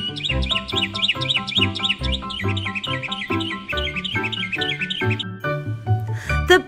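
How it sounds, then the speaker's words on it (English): Dense, rapid bird chirping from many birds at once, a busy overlapping chatter of tweets that continues steadily and fairly close. "The birds are swarming the girl for the breadcrumbs."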